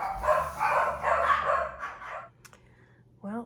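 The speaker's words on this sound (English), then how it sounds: "the dogs start barking right on the last page of recording the video" Dogs bark at home in a few short barks near the end, moderately close, after a woman's speech.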